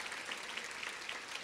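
Audience at the 2022 Women's Fund Luncheon clapping steadily, a dense continuous patter of many hands filling the room without cheers standing out.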